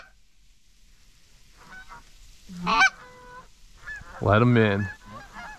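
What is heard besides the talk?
geese honking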